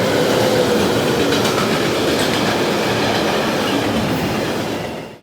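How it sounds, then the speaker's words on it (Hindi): A train rolls past at a level crossing on a road trip in Chhattisgarh, a loud continuous rumble with clattering wheels close by that holds steady and then cuts off abruptly. "इस बार गतिरोधक बनी ट्रेन, और सिर्फ एक नहीं, 2।"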